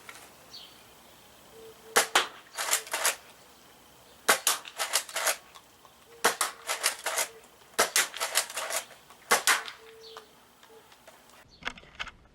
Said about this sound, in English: I'm only going to shoot off 3 just to show you what this looks like.